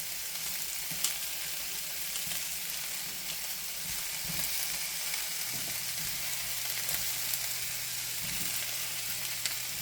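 Chopped onion frying in a pan, a steady broadband sizzle with faint stirring scrapes and a low hum joining partway through, close and continuous with no talking.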